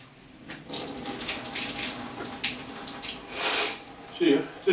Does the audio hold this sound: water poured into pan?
yes